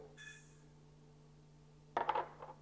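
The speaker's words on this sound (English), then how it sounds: "We'll start off by putting the active dry yeast in" Active dry yeast poured into a bowl while making pizza dough gives a short, quiet clatter of granules lasting about half a second, then a brief fainter rustle in a quiet kitchen.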